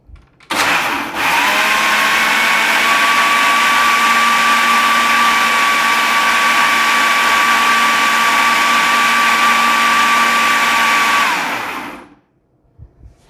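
A kitchen blender runs on sugarcane juice, a loud steady whirring drone that starts abruptly, holds for about eleven seconds, then winds down and stops.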